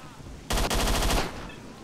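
A loud, close automatic burst from a weapon in S.T.A.L.K.E.R.: Shadow of Chernobyl rattles off as rapid pulsing shots for under a second, then fades into a soft tail.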